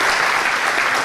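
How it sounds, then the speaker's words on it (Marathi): An audience at a public talk in Ichalkaranji gives Mahajan sir a round of applause: thick, loud clapping from a full crowd, sustained and even across the short moment. "महाजन सरांसाठीच एकदा जोरदार टाळ्या सगळ्यांनी वाजवलं"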